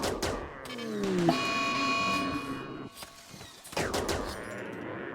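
Automated turrets in the RimWorld video game fire at a megasloth in a rapid fusillade of shots, mixed with tonal game effects and a descending electronic whine.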